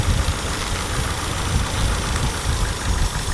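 A Nissan 180SX's SR20DET engine idles with a coil pack unplugged, a steady low rumbling drone with rough, uneven pulsing that holds close and fairly loud throughout, no voices.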